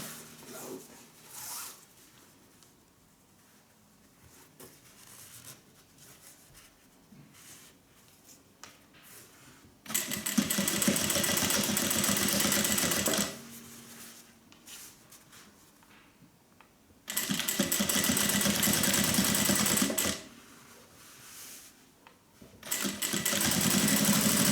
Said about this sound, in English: we are going to stitch along the same line of stitching that we stitched before